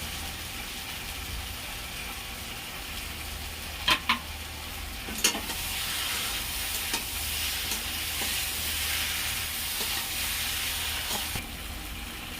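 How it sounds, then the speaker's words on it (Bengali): Soybean chunks and potatoes fry in a pan under a constant sizzle while a spoon stirs them, giving sharp scraping clicks near four and five seconds and softer knocks later. No one speaks. "তো বন্ধুরা আমি যে সোয়াবিন কটাও এর মধ্যে দিয়ে নাড়াচাড়া করে নেবো"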